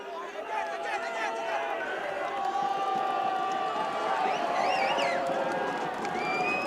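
Marshfield fans at a varsity football game, a steady roar of crowd noise and cheering swelling in the stands, with a commentator talking over it throughout.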